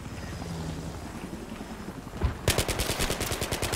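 Low background rumble gives way to a sudden burst of rapid, continuous submachine gun fire in the game Battlefield 3, loud and close, rattling on steadily.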